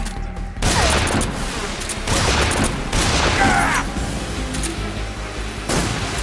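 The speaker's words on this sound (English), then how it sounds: "Take this! Grenade!" Explosions and gunfire in Metal Gear Solid 3 after a grenade is thrown, with several loud booming blasts spaced over a few seconds amid a dense crackling battle din.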